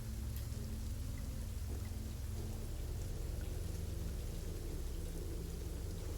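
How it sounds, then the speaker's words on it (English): Steady rainfall plays as ambience during a tabletop Dungeons and Dragons session, a constant even hiss of drops with a low rumbling undertone, no voices over it. "That rain you hear is not typical rain."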